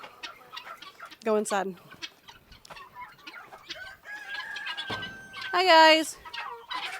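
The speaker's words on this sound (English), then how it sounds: "Oh my gosh, you guineas are so big." Guinea fowl call in a farm enclosure with loud, harsh, repeated squawking bursts and gobble-like cries close by, while a person speaks briefly in between.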